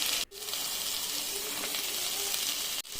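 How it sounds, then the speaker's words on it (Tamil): Steady sizzling of beans and carrots sautéing in a hot pan, a bright crackling hiss with two brief clunks of stirring. "இப்போ அதெல்லாம் நல்லா வதங்கிட்டோடனே பீன்ஸு கேரட்டை போட்டு நல்லா வதக்கலாம்."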